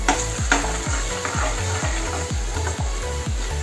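Home-ground masala and turmeric roasting in oil in a pan with a soft continuous sizzle, while a spatula scrapes and stirs in a regular rhythm, about two strokes per second, close and clear.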